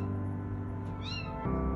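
A kitten stranded up high on a roof gives a single short, thin meow over a steady background hum, faint and somewhat distant.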